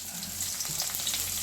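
Onions and curry leaves fry for beans poriyal in a pan, a brief, dense hiss of sizzling oil, close and steady with no voices.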